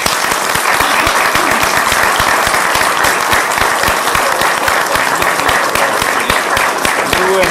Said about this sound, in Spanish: por lo cual pido un fuerte aplauso